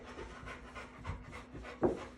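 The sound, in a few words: dog panting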